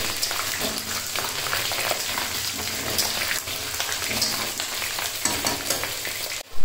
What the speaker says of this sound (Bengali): আর এখানে আমি বড় বড় করে আলু কেটে নিয়েছি, সেগুলোকে ভেজে নেব